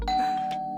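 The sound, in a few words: doorbell ringing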